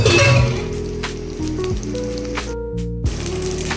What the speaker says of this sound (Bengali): সর্ষের তেল দিলাম, দিতে একটু রসুন আর কাঁচা লঙ্কা দিয়েছি, একটু সর্ষে দিলাম।